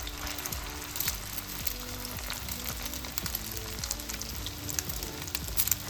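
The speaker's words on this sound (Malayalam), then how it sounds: "ഓയിലൊന്ന് ചൂടായി വരുമ്പോൾ നമുക്ക് ഈ മുട്ടയിൽ ഇങ്ങനെ ഒന്ന് ചെറുതായി ഒന്ന് മുക്കി കൊടുത്ത് നമുക്കതിലേക്ക് എടുത്തിടാം" Chicken pieces dipped in egg crackle and sizzle steadily in hot oil, a constant fizzing hiss over a faint melodic background tune.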